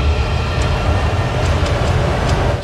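Train ride in the video game Vanquish: a steady, loud rumbling rolling drone with faint higher clanks, continuous for a few seconds with no talk.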